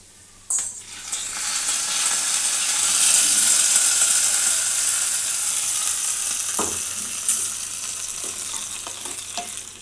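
A hot ghee mixture is poured into a pan and sizzles loudly and steadily up close, with a few clinks of utensils and no talking.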